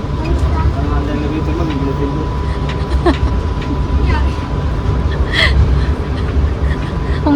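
Airport shuttle train heading to Terminal 4S, rumbling steadily with a faint constant tone and occasional squeaks from the carriage, heard from inside with people talking over it.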